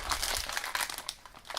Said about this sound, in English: so you can just open it, like a foil top there